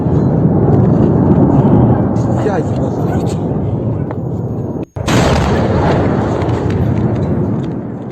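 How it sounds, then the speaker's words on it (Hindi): Heavy, rumbling blasts and booming roar from explosions in the Russia-Ukraine war fill the scene continuously, with a brief dropout before another loud burst of explosive noise. "ये तस्वीरें आवाज के धमाकों के साथ सुनिए।"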